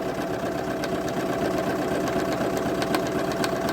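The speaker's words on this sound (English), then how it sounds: "And then it's going to come back down to the front. And then it will sew back." Viking Jade 20 sewing machine stitching a buttonhole with a buttonhole foot, a steady fast mechanical whir and rapid needle clatter running continuously at close range, no voices.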